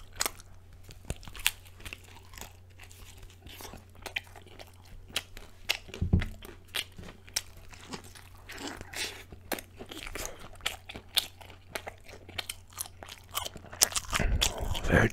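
Close, crisp crunching and chewing of an egg wrap and mushroom wraps, many sharp bites and chews in an irregular rhythm over a quiet background, louder toward the end.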